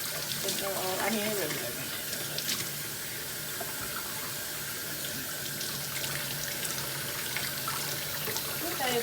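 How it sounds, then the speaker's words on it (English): Running tap water pours steadily as chicken and shrimp are rinsed in a sink, a continuous broadband splash under a voice talking throughout. "So a little rinsing all of this. Another little rinse."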